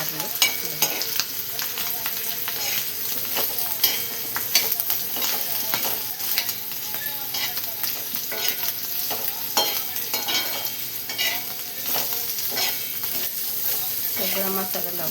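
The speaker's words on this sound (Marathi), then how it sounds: "सगळा मसाला लागूपर्यंत मस्त हलवून घ्यायचे, मिक्स करून घ्यायचं सगळं" Bitter gourd dusted with turmeric and masala is stirred around a hot pan, a steady close sizzle broken by frequent spatula scrapes and clinks across the whole stretch, with no talking.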